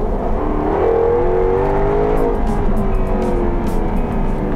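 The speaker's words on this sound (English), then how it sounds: "Both cars use the same engine fundamentally, Jaguar's rousing 5-litre supercharged V8." Jaguar XK Dynamic R's 5-litre supercharged V8 revving steadily up and down, a loud, close, continuous engine drone with rising and falling pitch, no talk.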